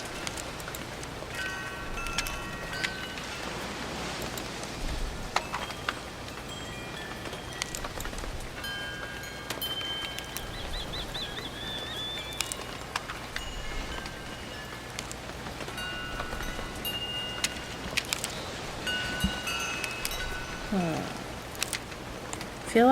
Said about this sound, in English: the rain hitting the leaves and making the leaves shake